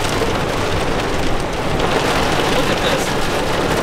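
Torrential rain pours down during a severe thunderstorm with gust-front winds in the Missouri–Oklahoma region, a dense, steady roar filling the whole stretch, with a brief voice speaking over it.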